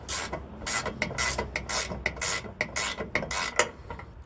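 A ratcheting wrench turns bolts on a snowblower during a repair, about a dozen rapid rasping clicks in short bursts close by, with no talking.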